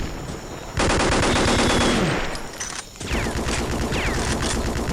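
Rapid, loud gunfire bursts from pistols and other weapons in a Vietnam War shooter game, Vietcong, dense strings of shots with a short lull before firing resumes.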